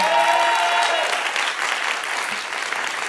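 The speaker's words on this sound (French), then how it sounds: "On peut faire un maximum de bruit pour Fanny Ruet, s'il vous plaît." A crowd claps for a comedian at a French stand-up comedy show, with dense, steady applause and a few cheers that slowly fade, and nobody speaking.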